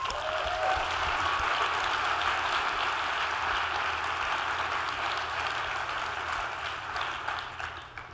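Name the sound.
audience applause for the Drupal 8.7 team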